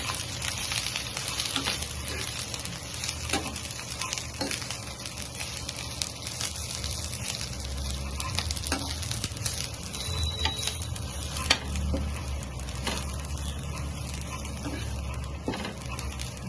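Mint leaves frying in a little oil, a constant dense sizzle with scattered crackles and occasional scraping of a stirring utensil against the pan, close and steady throughout.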